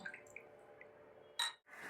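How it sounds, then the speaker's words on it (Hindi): Clean water rinsing a container, faint quiet trickling and dripping followed by a brief louder splash and a short gush near the end, close and alone. "अब इसको हम एक बार साफ पानी से भी धो लेंगे ताकि अच्छे से ये साफ हो जाए"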